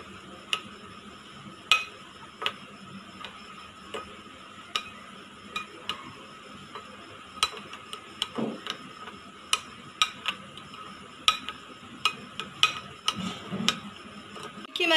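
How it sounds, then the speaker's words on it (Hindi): A whisk beats a batter of bread and warm milk in a bowl, producing irregular sharp clinks and ticks against the bowl over a quiet background, growing quicker toward the end. "मैंने इसे अच्छे तरीके से फेंट लिया है।"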